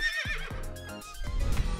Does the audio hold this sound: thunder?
no